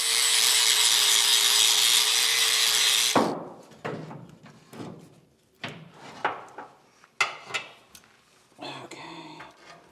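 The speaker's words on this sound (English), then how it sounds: "now we're gonna grind them smooth" Grinder smoothing cut-down bolt ends whines loudly and steadily for about three seconds, then stops, followed by scattered knocks, scrapes and handling clatter of metal parts.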